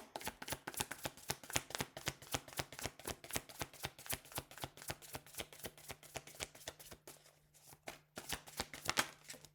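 A deck of tarot cards is shuffled by hand, producing a rapid, steady run of crisp riffling card snaps that continue for several seconds with only a brief pause near the end.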